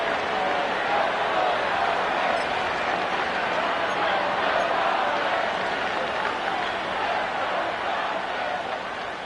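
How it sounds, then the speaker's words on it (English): Football stadium crowd at an NFL game roaring steadily, a dense continuous cheer that holds loud throughout with a commentator talking over it. "This crowd into it now as we get to third down"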